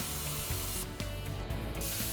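A Powermax SYNC plasma torch hand-cuts through metal plate with a continuous, close, harsh hiss and spraying roar, broken by a few brief dips in intensity.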